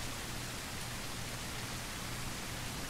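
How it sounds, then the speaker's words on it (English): Steady rain hisses evenly across the whole stretch in the zombie survival game SurrounDEAD, a dense, continuous downpour with no other sounds and no talking. "Well, it's just raining. That's what makes it so dark out here."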